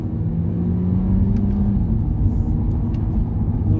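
An Audi A3 Sportback accelerates on a Tokyo street, a steady low engine rumble and road hum from inside the car, with no voices heard.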